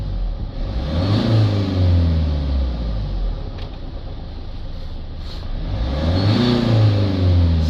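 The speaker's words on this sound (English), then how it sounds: "Sounds like we've got a little bit of a turbo noise there." A Peugeot Boxer 2.0 van engine with an oil dilution fault revs up and down in two long swells, with a whooshing, whistling turbo note rising over the loud, close engine drone.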